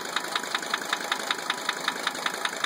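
A 1980 Mercedes-Benz 300 SD diesel engine idles with a strange noise, a steady rapid ticking knock repeating about five times a second over the engine drone, heard close with no talking.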